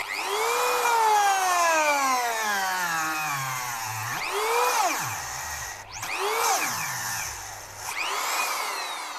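A Dremel rotary engraver runs at maximum speed under load, a loud close whine that sags in pitch as it bogs down, then revs back up and bogs again in repeated cycles.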